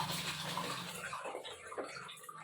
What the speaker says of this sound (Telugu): ఈ వాటర్లో పోసి నానబెట్టి కడిగి పక్కన పెడతాం